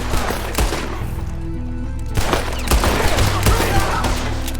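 Loud, dense gunfire in the Red Dead Redemption 2 video game, with rapid overlapping shots and sharp cracks in sustained bursts over a rumbling game soundscape.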